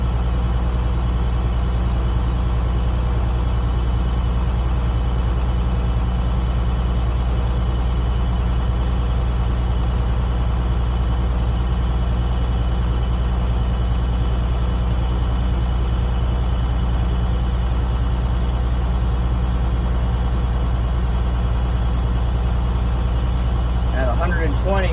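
A truck engine idles steadily while its air brake system builds pressure toward 120 psi, a constant low rumble with strong harmonic drone filling the whole stretch, close and continuous, with a brief higher sound near the end.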